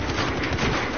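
Dense, rapid gunfire from the video game Battlefield 4 rattles continuously, loud and close, with bursts overlapping through the whole second.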